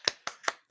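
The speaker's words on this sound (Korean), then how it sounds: "여러분도 박수 좀 부탁드립니다." Four sharp, evenly spaced hand claps, close and crisp, from an audience at a talk show with a classical singer.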